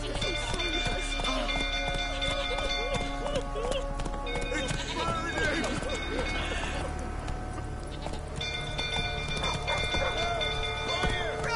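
Horse Roach galloping in The Witcher 3, a steady clip-clop of hooves running beneath a dense game soundscape with music and other sounds layered over it.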